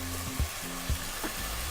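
Liquid hitting a hot pan of chicken and tomatoes, with a low steady sizzle broken by a few soft thumps and stirring sounds. No one speaks.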